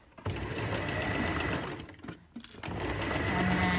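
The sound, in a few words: sewing machine stitching armhole of a wool coat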